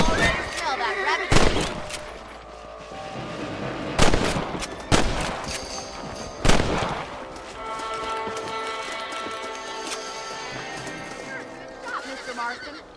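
Gunfire from hunting a rabbit in the video game Red Dead Redemption 2, a few loud shots standing out over horse whinnies, hoofbeats and ambient game sound.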